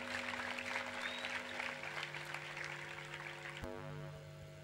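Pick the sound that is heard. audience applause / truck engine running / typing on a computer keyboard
audience applause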